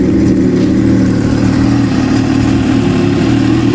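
A Yamaha WaveRunner jet ski engine idles on a flushing rinse, a loud, close, continuous drone with a fast even rumble and no talking.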